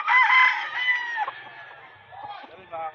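A Lemon Sweater gamefowl rooster crows loudly and close at a pet market, one long drawn-out call that trails off, followed by fainter bird sounds and background noise.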